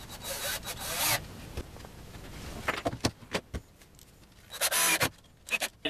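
A scrap piece of plywood is cut to length while a pallet milking stand is being built. Two loud, rasping bursts of cutting open and close the stretch, with scattered knocks and scrapes of handling in between.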